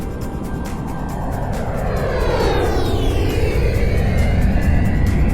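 Airplane flyover sound effect used for a paper airplane lift-off, a loud, steady engine roar rising in intensity with a sweeping pitch shift as it passes close by.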